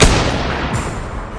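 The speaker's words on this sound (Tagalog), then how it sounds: "Putok ng barel, walang tinamaan sa kanila" A single sharp rifle gunshot from a horror story opens with a loud crack, then a rumbling echo that decays for over a second.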